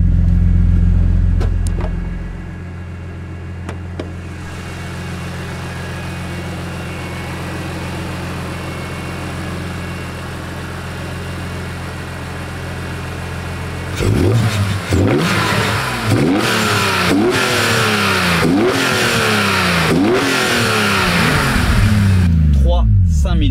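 A BMW Z4 M with the hood open: its tuned M3 CSL-style engine first idles steadily, then is revved hard again and again in sharp, loud bursts in the second half, with people talking over it.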